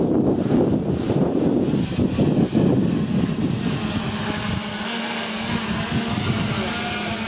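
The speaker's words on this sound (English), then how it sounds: "This wind is ridiculous." Strong wind buffets the microphone with a continuous loud roar and rumble, along with a steady mechanical hum underneath from a hovering Traxxas Aton drone.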